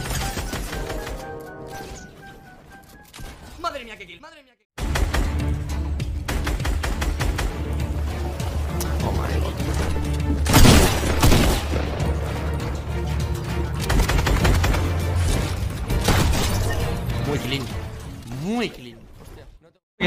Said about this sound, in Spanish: Escucho disparos por esta zona.